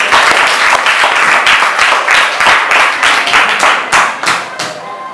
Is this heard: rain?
no